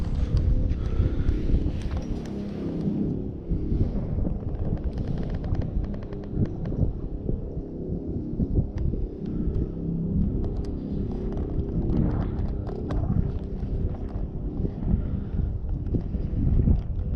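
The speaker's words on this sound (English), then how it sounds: "Pardon the wind if there is a lot of noise." Wind buffets a microphone at a hilltop overlook, producing a heavy, continuous low rumble and irregular gusting thumps that stay loud and close for the whole stretch, with no talking.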